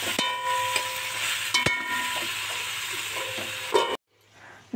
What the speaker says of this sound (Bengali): এবার ভাজা করা আলুগুলি দিয়ে ভালোভাবে নেড়ে ঢাকনা দিয়ে নেব।